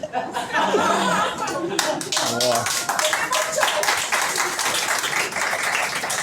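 Stand-up comedy crowd breaks into loud, sustained applause with scattered laughs and chuckles mixed in, dense clapping continuing throughout with a few voices briefly audible over it.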